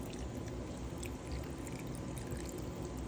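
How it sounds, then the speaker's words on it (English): Chicken broth poured into a pan of turkey wings, a steady close liquid splash and trickle running continuously through the short moment, with no talking. "I'm going to add just a little bit of chicken broth"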